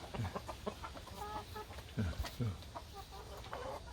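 A feather-legged Ogolgye (silkie-type black chicken) rooster on a farm gives low, throaty clucks in short irregular bursts, close by, with other poultry murmuring around it and someone talking faintly.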